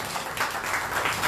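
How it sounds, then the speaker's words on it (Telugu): A church congregation at a Sunday service claps together, a full steady wash of applause that swells slightly toward the end, with no speech over it. "కొట్టండి చప్పట్లో"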